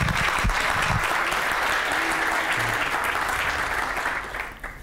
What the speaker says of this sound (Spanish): Así que un aplauso y muchas gracias,